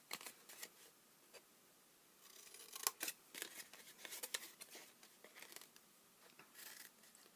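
Scissors snip and cut through paper while making a small 2 x 2 x 1 stamped paper box, with sparse close crisp cuts and crinkling bursts, quiet and with no speech.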